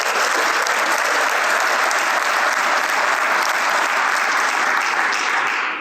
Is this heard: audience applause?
yes